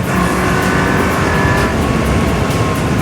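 A 400 horsepower car engine roars steadily at high revs during a Gumball 3000 rally drive, loud, close and sustained.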